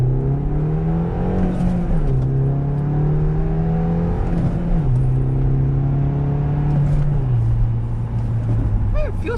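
A Mini Cooper pulling hard in first gear, engine and exhaust droning loud and close, pitch climbing then dropping at shifts, with a few brief tonal chirps near the end.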